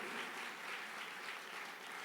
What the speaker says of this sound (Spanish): Un aplauso a los de seguridad en la mañana, por favor